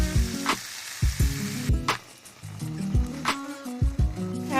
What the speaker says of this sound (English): I'm going to put your heat on medium low, and we're going to let it simmer for 2 to 3 minutes.